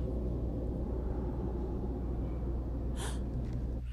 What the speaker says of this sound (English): It is a specifically female gasp.